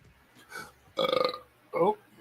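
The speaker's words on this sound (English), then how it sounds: "You got mad burps, bro." A loud, rumbling burp bursts out close by, followed by a shorter second belch, with faint vocal sounds just before.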